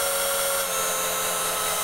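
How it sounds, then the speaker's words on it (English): An electric drill whirs at a steady high pitch while boring a hole in wood for a birdhouse, loud and close with a constant tone. "Let's see if you can use a slightly bigger drill."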